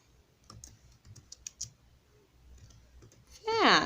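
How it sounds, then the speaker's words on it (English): Keyboard typing on a computer, a few scattered clicks and key taps, moderately close but soft, ending in a brief louder burst of sound. "So I'm going to type that in."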